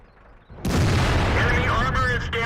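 A tank cannon shot from World of Tanks, fired by a T28 Prototype at a Leopard PTA: a sudden loud boom kicks in and then holds as a dense, sustained roar with ringing tones through the rest of the clip.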